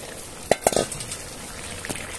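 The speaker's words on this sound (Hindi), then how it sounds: "अभी अच्छे से मिक्स करके दोनों की भुनाई करेंगे" Tinda and potatoes being stirred in a frying pan, with a few distinct scraping knocks of the spoon against the pan over a faint sizzle, then quieter frying.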